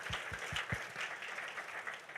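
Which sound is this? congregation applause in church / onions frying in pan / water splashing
congregation applause in church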